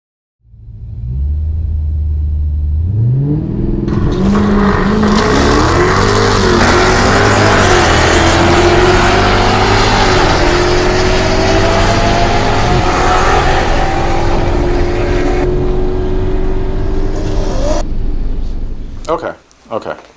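A car engine starts up and revs hard, running very loud with a deep rumble that climbs and falls through repeated throttle blips for most of the stretch, then cuts out near the end.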